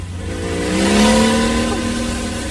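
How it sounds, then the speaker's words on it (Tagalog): A motorcycle speeds away, its engine roaring up to a loud peak and then easing off as it pulls into the distance. No one talks over it. "katong motor nga kusog kay mipadakan"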